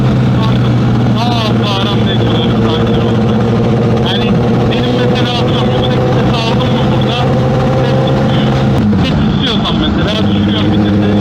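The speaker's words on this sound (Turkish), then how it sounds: "Ya egzozum da bazen çok hoşuma gidiyor." A car engine and exhaust rumble steadily and loudly through the whole stretch, with revving swells while people talk over it.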